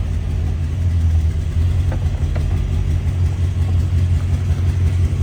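A 1970 Volkswagen Karmann Ghia idling after an icy cold start on a chilly day, a steady low rumbling putter that runs evenly and close with no talk over it.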